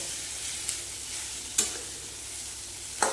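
Chopped cabbage frying in a pan with tomato, a steady faint sizzle broken by three sharp clacks of a utensil against the pan.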